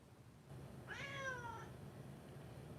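A single house cat gives one clear, drawn-out meow close by in a quiet room, the call rising and then falling, with faint background hum before and after.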